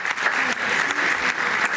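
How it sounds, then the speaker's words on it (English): A short burst of enthusiastic applause from an audience at a school district recognition ceremony, dense clapping at steady volume with no speech. "Let's give Kathy Marsh a round of applause."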